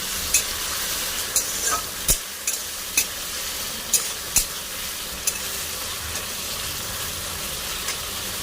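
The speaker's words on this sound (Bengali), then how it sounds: "তেলটা গরম হয়ে গেছে, এবার চিংড়ি মাছটা দিয়ে দেব। চিংড়ি মাছটা লাল করে ভেজে নেব।" Shrimp frying in hot mustard oil, a close steady sizzle broken by several sharp clacks of a spatula stirring against the pan at irregular intervals.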